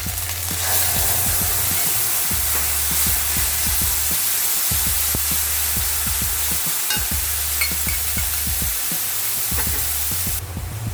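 Ginger and tomato puree frying in a pan over a low gas flame, a steady close sizzle with stirring scrapes throughout, no talking.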